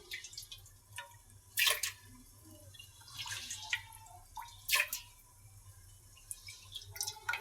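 Lentils (dal) being rinsed in water make soft, intermittent splashes, drips and sloshes at close range, with a quiet low hum underneath.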